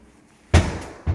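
A lower kitchen cabinet door without a soft-close hinge shuts with a loud, sharp slam followed by a brief rattle and a second smaller knock, heard close up with no talking.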